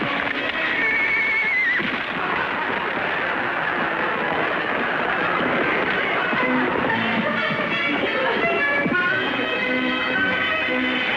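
A horse neighs and whinnies loudly and close by, with clip-clop hoofbeats and a busy, continuous commotion filling the scene throughout.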